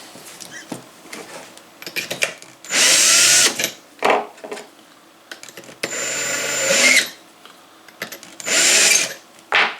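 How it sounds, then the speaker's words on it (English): A cordless drill spins a case trimmer while 6.5 Grendel rifle cases are trimmed for reloading, giving three loud sustained whirring bursts of about a second each, separated by quieter clicks and handling noises. "Got my cordless drill here. Sure makes it easier turning all this"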